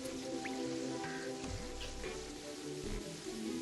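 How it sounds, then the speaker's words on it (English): Rain falls in the video game Terraria as a soft, steady patter with scattered drips and light splashes, heard alone at low volume. "Hey, it's raining."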